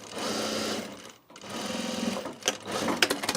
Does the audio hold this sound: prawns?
no